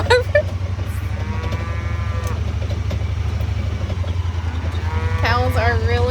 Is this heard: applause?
no